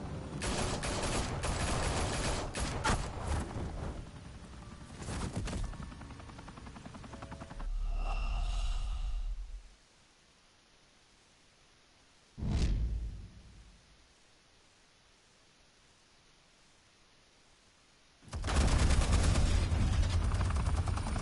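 Loud bursts of gunfire in a Batman video game on PS4, with heavy volleys at the start, a short separate burst in the middle and another dense barrage at the end, broken up by quiet gaps.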